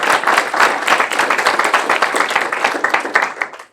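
An audience at a student government livestream applauds, a dense burst of clapping filling the room steadily and loudly for a few seconds before cutting off, with no talking over it.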